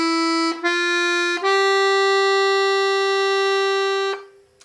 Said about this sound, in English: you can start with 1 reed, the most simple form, and then the music sounds like this